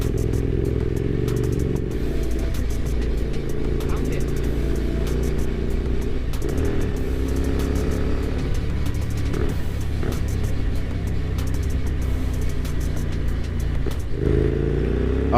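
A Hyosung GT250R sports bike with a modified exhaust, ridden at steady speed with a continuous loud, rumbling engine drone, close to the listener and without speech.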